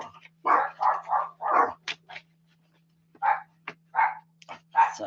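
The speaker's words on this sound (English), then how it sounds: "There goes the dogs." Dogs bark at a house in a series of sharp, loud bursts: a rapid cluster of barks, a short pause, then a few more spaced barks close by, with no talking.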